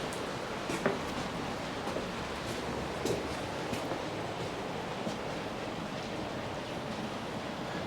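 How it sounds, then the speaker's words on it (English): Rain falls outside a shut workshop as a steady, soft, even hiss with faint occasional patters, moderately quiet and unbroken. "you can probably hear that rain actually."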